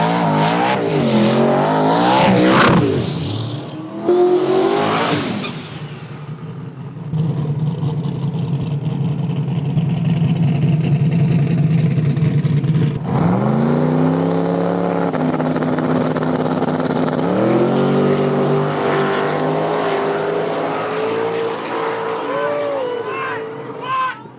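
No-prep drag race cars roar by loudly, engines revving and whining in rising pitch sweeps, with crowd noise and a voice in the background.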